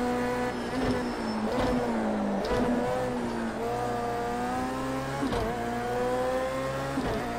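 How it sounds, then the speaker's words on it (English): A 2017 BAC Mono's engine in the racing game Project Cars 2 at Donington Park GP, a harsh high-revving whine climbing through the gears with quick shifts and dips, steady and close. "and the engine sounds brilliant"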